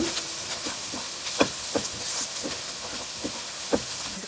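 Crushed chilies sizzling in hot oil in a pan for a zucchini sabji, with a steady hiss and a few soft clicks and taps of a spoon against the pan, close and moderate in level, with no talk.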